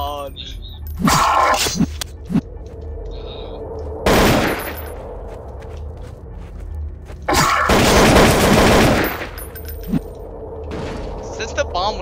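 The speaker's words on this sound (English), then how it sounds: "Since the bomb went off, you haven't touched me." Loud bursts of explosive noise in the Garry's Mod game mode Hidden: three broad booming blasts a few seconds apart with a long roaring one late on, plus sharp clicks and mechanical clatter between them.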